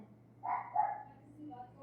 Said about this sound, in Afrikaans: hulle blaf seker maar vir iets